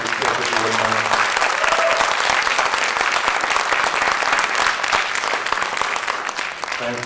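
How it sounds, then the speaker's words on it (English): Audience at a high school jazz concert gives a sustained, loud round of applause for the student performers, dense clapping filling the hall throughout, with a voice briefly audible near the start and end. "give one more quick round of applause for these kids"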